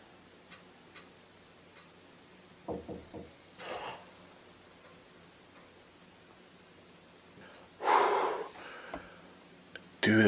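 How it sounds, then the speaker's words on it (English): Three quick consecutive knocks sound from an attic wall, sharp and fairly close, amid faint ticks and scattered small noises, followed later by a louder burst of rustling. "You can hear 3 consecutive knocks emanate from the attic wall."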